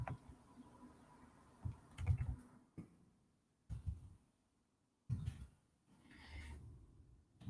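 Soft, uneven tapping of keys on a computer keyboard comes in short bursts with pauses between, close and fairly quiet.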